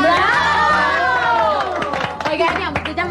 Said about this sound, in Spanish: Un aplauso para Super Mario, que trajo el regalo más caro